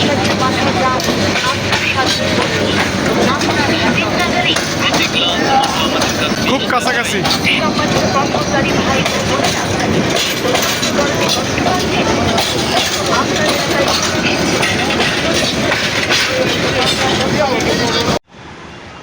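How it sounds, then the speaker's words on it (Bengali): Train passing on the tracks close by near Dhaka's Hazrat Shahjalal International Airport, a loud sustained rumble and rhythmic wheel clatter lasting nearly the whole clip and cutting off at the end, with someone speaking over it. "শেষে কাঙ্ক্ষিত ট্রেন দেখতে পেলাম"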